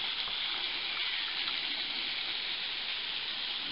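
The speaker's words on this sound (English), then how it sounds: "Here we are at the bottom of Adelina Falls. Pretty little waterfall." Adelina Falls, a small waterfall in Blue Mountains rainforest, heard from its base as a steady, soft rush of falling water, with no talking.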